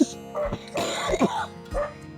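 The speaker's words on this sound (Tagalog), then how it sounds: "Oo, inuubo ka." A few rough coughs and throat clearings, close and fairly loud, in short bursts with brief pauses between them.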